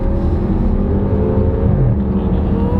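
An Audi RS6 fitted with a V10, heard from inside at full throttle during a 0-62 mph run: a loud, continuous engine roar whose tone climbs steadily as it accelerates.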